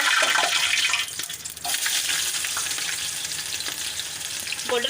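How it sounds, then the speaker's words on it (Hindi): Chopped onions sizzling and frying in hot cooking oil in a pan for beef keema pulao, a steady loud crackle with stirring scrapes throughout, no talking. "गोल्डन ब्राउन करना है हमने प्याज को।"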